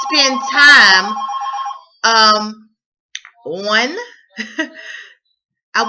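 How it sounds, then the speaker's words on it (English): A telephone rings in short repeated bursts while someone speaks loudly and continuously over it, with several pauses between phrases. "Y'all got to excuse that ringing."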